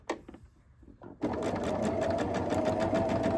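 Sewing machine stitching down a quilt block, a steady close whirring hum that starts after a second of quiet with small handling sounds and runs continuously to the end.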